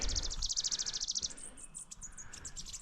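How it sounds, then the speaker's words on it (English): Agitated birds call in a recently logged forest along the Lusk Creek connector, a rapid high-pitched chattering trill bursting out close by, then breaking into scattered sharp chirps amid faint ambient background with no voices. "the birds up in here getting all bent out of shape."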